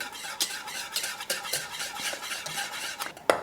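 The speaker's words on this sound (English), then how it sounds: "So just keep stirring." A spoon stirs coconut cream pudding thickening in a pot over low heat, giving close, repeated scraping and clinks of metal on the pot, with no talking.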